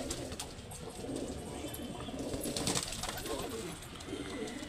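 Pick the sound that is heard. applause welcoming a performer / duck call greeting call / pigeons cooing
pigeons cooing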